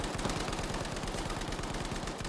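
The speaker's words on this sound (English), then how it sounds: "I'm shooting people from where they should be shooting us." Sustained automatic gunfire in Battlefield 5, a dense rapid rattle of shots continuing throughout, steady and fairly loud.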